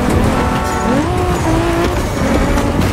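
A BMW Z4 M40i convertible driving in The Crew Motorfest, its engine note loud and close with rising and falling revs and gear shifts, tires squealing briefly, no voices.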